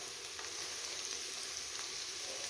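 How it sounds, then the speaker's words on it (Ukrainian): Onion and carrot fry in oil with a soft, continuous sizzle that sounds steady and fairly faint, with tiny crackles scattered through it and no voices. "І обсмажується поки цибуля. От Цибулька вже трошечки прияла. Додаю сюди моркву."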